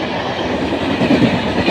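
A non-stop high speed Indian train races through a station, a loud, close rumbling roar of wheels on rail with rhythmic clatter swelling near the end of the short stretch.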